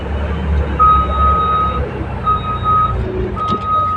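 A Volvo 500 vehicle sounds its reversing alarm, three long steady electronic beeps repeating over a low engine rumble, loud and close with no voices.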